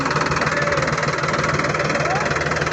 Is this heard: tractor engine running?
yes